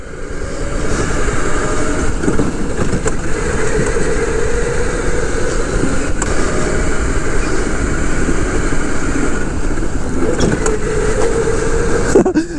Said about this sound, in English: Oh, this cart's so much faster.